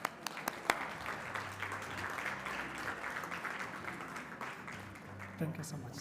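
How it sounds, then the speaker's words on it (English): Audience applause at a work-conference dialogue session, a steady, moderately distant wash of clapping lasting the whole stretch with a few sharper claps near the start, mixed with faint crowd murmur. "A round of applause."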